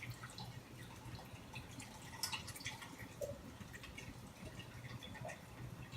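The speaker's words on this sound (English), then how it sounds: "Let's finish draining off." Homebrew IPA wort drains in a kitchen, with faint, irregular drips and small splashes of liquid over a quiet background hum.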